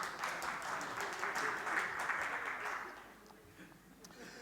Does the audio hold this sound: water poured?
no